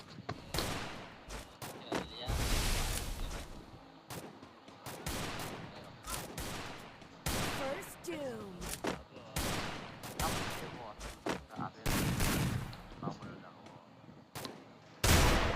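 Gunfire bursts and single shots from the battle royale game Garena Free Fire, coming in repeated loud volleys with short gaps between them, over a steady background of game sound and a voice talking.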